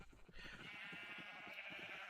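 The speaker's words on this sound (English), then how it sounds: "And then we have two sheep farms here." Sheep on a sheep farm in a blocky video game let out a short, faint bleat, a single wavering call lasting about two seconds.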